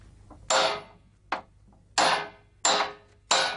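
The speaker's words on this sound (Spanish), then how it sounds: "Picar los aros consiste en apretarlos a golpe de martillo con el repretador" Five sharp metallic hammer blows at an irregular pace, each ringing briefly before the next, close and loud with no talking: a cooper tightening metal barrel hoops with a hammer and hoop driver.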